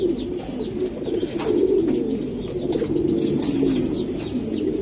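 Female racer pigeon cooing steadily at close range over a continuous low hum, with soft chirps and rustles from other birds nearby.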